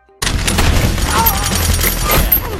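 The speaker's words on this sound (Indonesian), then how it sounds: "Local officials have confirmed gunfire on the Sunday." Loud, sustained gunfire from a Chinese gangster action film fills the clip with a dense burst of rapid shots and booms, close and continuous, and no talking is heard.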